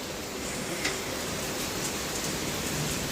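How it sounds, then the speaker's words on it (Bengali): Heavy rain and wind outside an open balcony make a steady, dense wash of noise, close and loud throughout, with no talk. "ভীষণ সুন্দর বৃষ্টি পড়ছে আর হাওয়া দিচ্ছে।"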